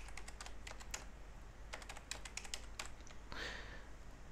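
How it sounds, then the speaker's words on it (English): Fingers tap out an IP address on a computer keyboard, quiet clicky keystrokes in short uneven bursts with a pause midway, close-miked with no voices. "So type in the IP address,"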